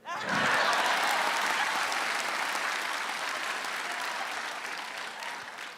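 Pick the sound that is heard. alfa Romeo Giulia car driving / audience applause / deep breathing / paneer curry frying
audience applause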